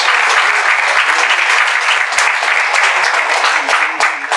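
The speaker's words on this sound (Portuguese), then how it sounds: "Receba essas palmas, Jesus." A church congregation claps together in loud, dense, sustained applause that fills the space without a break, with faint voices mixed in beneath it.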